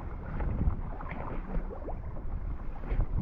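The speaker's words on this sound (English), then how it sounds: "Paddling back now." Kayak paddling back across the water of Kealakekua Bay in Hawaii, soft splashes and water movement under steady wind noise on the microphone, fairly faint and close.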